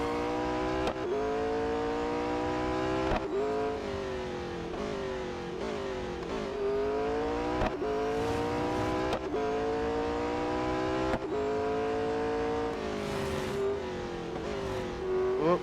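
A McLaren 600LT in the racing game Real Racing 3 screams through the revs continuously, rising through each gear and dropping sharply at every upshift, loud and up close, with brief tire squeal and no talking.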